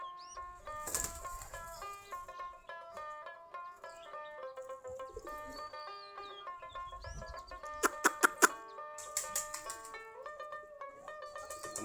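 Pigeons in a loft of about forty pairs flap their wings in a few short bursts, one early and a rapid cluster later. Steady tonal background music plays throughout.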